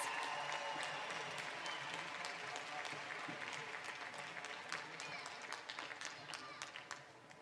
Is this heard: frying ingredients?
no